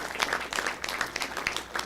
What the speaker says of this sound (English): give yourself a round of applause, guys